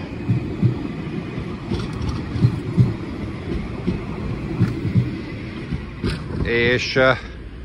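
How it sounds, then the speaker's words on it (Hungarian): A tram rolls in along tracks near old switches and a siding in Kőbánya, Budapest, with a steady low rumble and clatter that ends in a loud, high-pitched wheel squeal over the final seconds. "Nézzük meg a villamost, ahogy érkezik."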